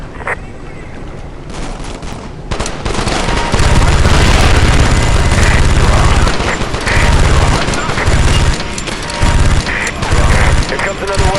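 Minigun firing in the Call of Duty: Strike Team video game, a loud sustained roaring stream of rapid shots in several long bursts with short gaps, amid battle noise and shouted voices.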